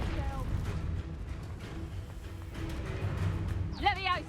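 Confringo fire blast spell cast in Hogwarts Legacy, a whooshing burst with rumbling impacts and a bright crackling flare near the end, set against busy game ambience and music.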